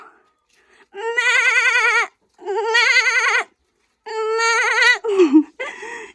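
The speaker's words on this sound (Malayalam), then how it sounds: "ആ ആട്ടുകുട്ടിയാണ് ഇത്, കണ്ടില്ലേ." A newborn goat kid bleats repeatedly in Nepal, several loud, wavering, high cries close by with short pauses between them.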